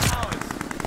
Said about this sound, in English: Cooper Carbine is my absolute go-to assault rifle.